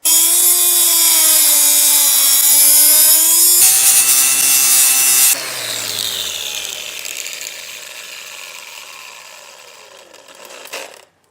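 A power tool cuts through a metal strut on an exhaust manifold in a garage: a loud, steady mechanical whine that shifts abruptly in pitch partway through, then grinds on more roughly and fades before stopping.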